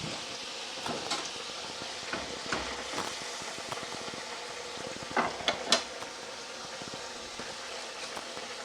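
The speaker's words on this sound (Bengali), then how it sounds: "আমি এবারে মাছগুলো এর মধ্যে একে একে দিয়ে দেব" Bata fish slid one by one into simmering, bubbling gravy, a soft continuous bubbling hiss with a few small splashes and clinks, steady and close.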